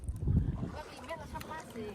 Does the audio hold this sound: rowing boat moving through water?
yes